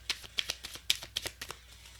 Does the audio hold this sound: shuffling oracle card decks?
yes